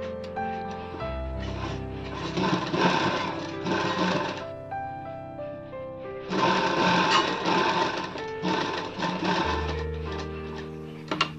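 A sewing machine stitches a princess cut blouse in two long runs of steady motor whirring, with a pause between them and a short burst at the end, close and clear with no talking.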